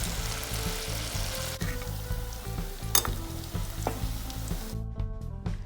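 Dried red chillies fry in hot oil over low heat with a steady close sizzle and bubbling, broken by occasional stirring clinks, with no voices.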